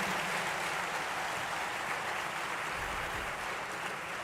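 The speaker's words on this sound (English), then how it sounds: "Please join me with a great round of applause to invite our Honorable Dr. Jaishankar, Ministry of External Affairs." Audience applause at an inauguration ceremony at IIT Madras, a steady, dense wash of clapping from a large crowd that holds evenly from start to finish with no voices over it.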